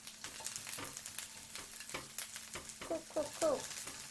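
Tofu and celery stir-fry in a pan over medium-high heat, a steady sizzle with scraping stir strokes and a few sharper clinks near the end, moderately close.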